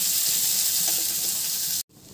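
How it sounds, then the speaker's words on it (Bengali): Chopped onion frying in oil with garlic in a pan gives a dense, even sizzle, loud and close, that runs unbroken before cutting off abruptly near the end. "পেঁয়াজটাকেও ভালো করে আবার পেঁয়াজটাকে ভেজে নেব"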